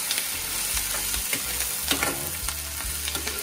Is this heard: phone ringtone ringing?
no